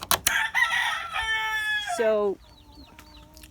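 Silkie rooster in a bachelor pen crowing one drawn-out call after some clucking, close by, with a brief word spoken at the start.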